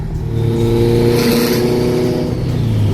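A tuned 700HP Honda S2000 engine runs steadily and fairly loud, a lumpy idle that swells into a brief rev and then eases back, heard alone without voices.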